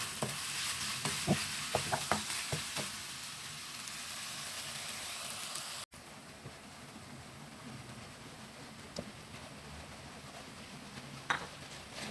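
Beef with ginger frying in a skillet, a soft continuous sizzle with scattered clicks of stirring, quieter after a brief cut midway, no voices.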